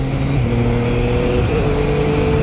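A Yamaha Tracer 900 GT motorcycle shifts gear with its quickshifter while riding, a loud, constant engine roar close up with brief dips and steps in pitch at each shift.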